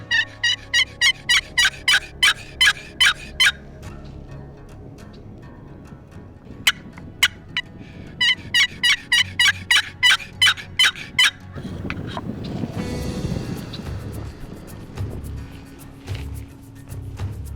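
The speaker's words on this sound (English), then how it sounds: "I think right here would be a good place to yelp at one, see if we can't make one gobble" Wild turkey in the Nebraska hills answering a yelp call, loud rapid gobbles in two repeated bursts, then a break filled with rustling and wind-like noise.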